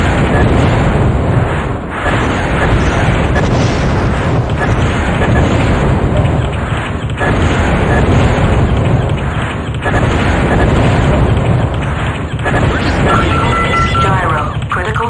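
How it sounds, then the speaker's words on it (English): An internal ammunition explosion inside a mech in the MechWarrior 2 video game, heard as loud, continuous roaring rumble with several heavier blasts breaking through dense battle noise. "Internal ammo explosion detected."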